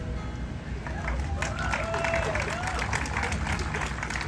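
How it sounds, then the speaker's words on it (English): Homecoming audience applauding student mural artists, a sustained crowd of clapping with a murmur of voices mixed in, steady and fairly loud throughout. "I'd like an extra round of applause"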